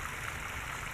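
Irrigation water drawn from a river rushing into a farm field, a dense, constant watery roar with no pauses and no voices.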